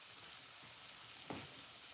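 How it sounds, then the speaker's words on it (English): Food simmering gently in a pan on very low heat, a steady soft sizzle with a couple of faint stirring or scraping touches. "Simmer on low heat."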